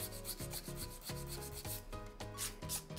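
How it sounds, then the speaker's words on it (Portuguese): Repeated strokes of a nail file along the sides of a gel nail, each rasping pass close and steady, about seven in a row with a brief break between them. "Limo as minhas laterais a direito de forma a emagrecer a minha estrutura de um lado e do"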